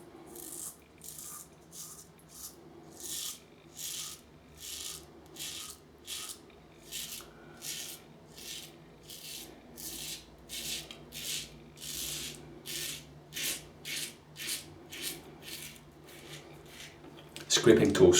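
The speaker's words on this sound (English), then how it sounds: "Scraping toast. That's what it sounds like." A bar of Old Hickory soap is scraped in steady, evenly spaced rasping strokes, about two per second, like scraping toast, close and fairly quiet over a low background hum, ending in a louder burst.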